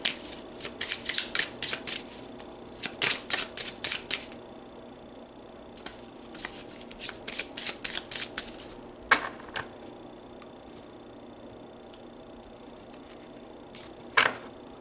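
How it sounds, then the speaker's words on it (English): Oracle cards are shuffled by hand in repeated quick bursts of soft riffling clicks, close and faint, pausing between rounds with a couple of sharper taps and no talking. "let's pull you some orb cards and see what spirits are around you specifically this week"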